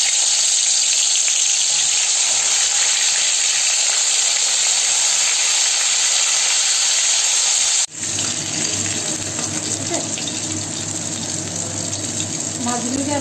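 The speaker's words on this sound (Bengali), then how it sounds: "এখন আস্তে আস্তে আমি মাছগুলিকে ফ্রাই করব" Fish fry in hot oil in a kadai with a loud, continuous sizzling hiss that flares with a brief jolt and then carries on with added bubbling crackle.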